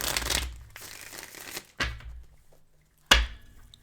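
Tarot cards are shuffled in several short, crisp riffling bursts separated by quiet pauses, close and fairly soft.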